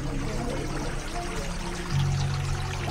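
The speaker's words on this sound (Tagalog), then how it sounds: "Hot shower." Hot shower water runs in a steady, close rushing stream, with a faint low hum coming in partway through.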